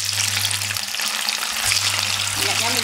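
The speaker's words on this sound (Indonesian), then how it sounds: "Kita goreng tahunya dulu deh." Tofu frying in used cooking oil, a steady close sizzle that runs throughout with a low hum underneath and a few faint clinks near the end.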